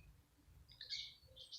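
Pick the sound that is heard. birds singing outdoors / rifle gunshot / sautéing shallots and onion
birds singing outdoors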